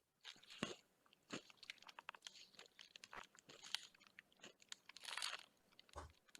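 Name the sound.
person crunching food while eating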